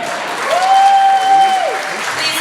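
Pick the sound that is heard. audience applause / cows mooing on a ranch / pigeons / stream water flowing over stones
audience applause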